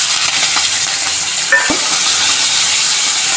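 Turmeric- and salt-coated prawns frying in hot oil seasoned with panch phoron, a steady loud sizzle and hiss throughout with a brief clatter near the middle, no talking.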